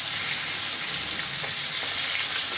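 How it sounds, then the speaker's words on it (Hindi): Ghee poured over a chicken breast sizzles steadily and loudly in the pan, a dense continuous hiss with no voices over it. "थोड़ा थोड़ा इतना करके आप घी ऊपर भी डाल लें।"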